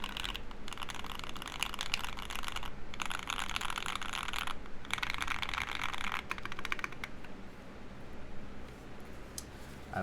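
Steady, dense typing on a custom aluminum mechanical keyboard fitted with JTK keycaps, close and continuous for the full stretch with brief pauses between bursts of keystrokes and no talk.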